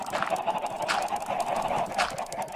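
Chickens cluck in the Minecraft video game, a steady run of clucks and squawks with repeated bursts across the whole stretch, fairly loud and with no talking.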